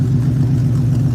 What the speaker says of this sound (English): the Mustang is idling nicely